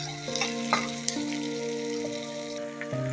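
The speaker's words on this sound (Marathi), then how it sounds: "आणि आता सगळ्यांना चांगलं परतून घ्यायचं आहे।" Chopped onions and kande pohe ingredients sautéing in a pan, a steady close sizzle with spoon stirring and a few light scrapes, no talking.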